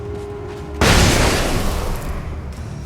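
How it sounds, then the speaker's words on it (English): A flashbang goes off in the video game Alan Wake, a sudden loud boom that cuts in abruptly after a quiet stretch, then a dense, roaring wash that slowly thins out, with no talk over it. "Use the last flashbang."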